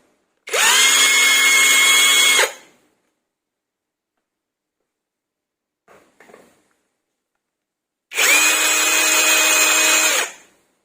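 A Monqiqi cordless impact wrench runs in two loud bursts of about two seconds each, separated by near silence with a faint brief rattle between them; the tone is a steady high whine, no talking.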